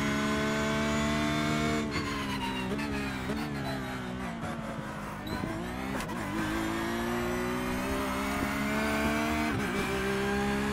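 Race car lapping a circuit in the iRacing simulator played in VR with a Fanatec wheel, a loud sustained engine drone rising through the gears with sharp upshift breaks and revving, steady and close throughout.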